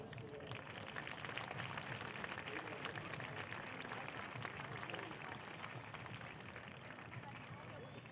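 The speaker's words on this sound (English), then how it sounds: "with your applause, please thank our Bulldogs" An audience at a high school football game applauds to thank the Bulldogs players, a steady, dense wash of clapping from a crowd heard at a distance, with faint crowd murmur underneath.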